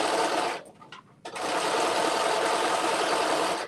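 A sewing machine fitted with a rolled hem foot runs a hem on an off-the-shoulder dress, a loud, close, steady whirring stitch that stops briefly and then resumes.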